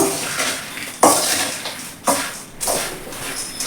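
A utensil stirs and scrapes puffed rice for mandakki oggarane in a metal pan on a gas stove, with loud, rhythmic strokes about once a second, each scrape rising then fading, and no talking.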